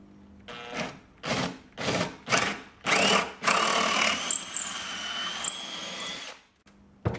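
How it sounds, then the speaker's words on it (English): A power drill enlarges a bolt hole through timber for an outdoor seat, starting with several short bursts in a steady rhythm, then a longer continuous run that whines up and stops abruptly. It is close and loud, with no talk. "and now drill it."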